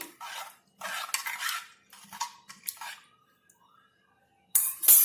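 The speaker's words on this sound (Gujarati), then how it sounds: "બધી જ વસ્તુને આપણે સારી રીતે મિક્સ કરી લઈશું" A spoon stirs rice-free khichdi ingredients and water together in a pot, scraping and clinking in several close bursts separated by pauses, with a sharper rattle near the end.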